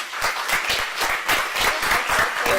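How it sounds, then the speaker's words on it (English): Lecture-hall audience at a women in leadership conference breaks into brisk, steady applause, many hands clapping close and evenly for the full stretch. "Can we please give Prof a round of applause?"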